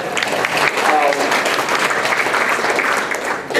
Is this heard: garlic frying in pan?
no